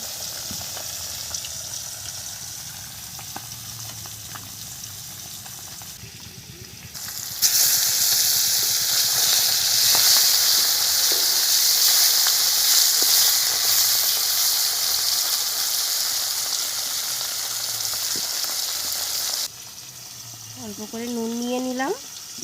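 Small puti fish frying in hot oil, a low sputter that bursts into a loud, sustained sizzle and hiss for several seconds, then drops back as a voice speaks briefly.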